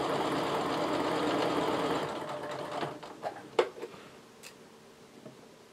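A sewing machine stitches fabric in a fast, even whir for about two seconds, then slows and stops, leaving a few faint clicks and taps.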